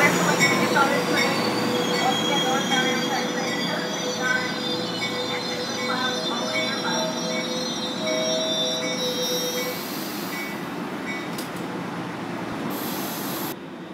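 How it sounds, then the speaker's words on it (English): Amtrak Pacific Surfliner passenger train rolling past at a station with sustained rumble and squealing wheels, steady and loud throughout, with faint voices beneath. "Amtrak train 769."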